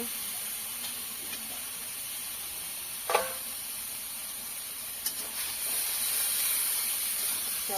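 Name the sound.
eggplants hissing as added to hot pan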